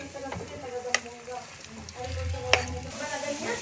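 Sweet potato slices sizzle and crackle in hot oil with occasional utensil clinks, while a voice talks intermittently over the frying.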